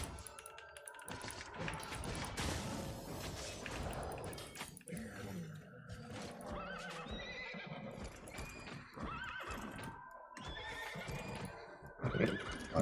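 A video-game horse whinnies and neighs loudly amid clip-clopping hooves, with cluttered game effects and a few clattering hits layered through the busy scene.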